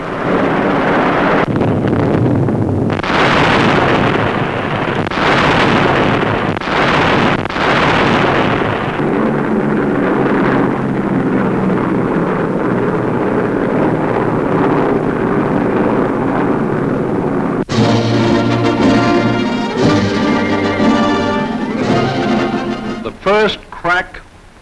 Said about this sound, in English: the great Axis rail yards from which troops and supplies are poured into southern Italy are blasted by overwhelming Allied air power